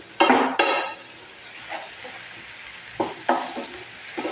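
Chopped medium-sized tomatoes frying in a pan for paneer bhurji, a sharp sizzling burst as they hit the hot oil, then softer hissing with a few stirring scrapes and clinks nearby.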